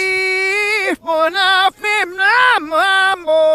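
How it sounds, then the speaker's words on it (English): A vocal recorded on tape plays in reverse, with warped, swelling tones that rise and cut off abruptly in several short bursts, like recorded singing run backwards. "if we were to take the tape and play it backwards, it would sound like this"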